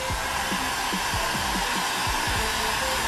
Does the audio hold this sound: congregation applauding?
no